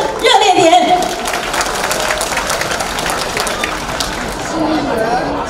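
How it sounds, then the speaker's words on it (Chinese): An audience at the inauguration ceremony of a hometown association in New York breaks into sustained clapping. A voice carries over the start, then the applause holds at an even level. "朋友们掌声热烈点。"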